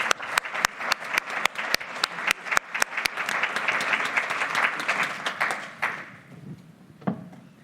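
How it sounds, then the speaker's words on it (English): Audience applause for a panel at an advisory board meeting, starting as sharp separate claps and swelling into steady clapping from a room full of people, then fading out with a few stray claps. "let's give a round of applause to our fantastic panel."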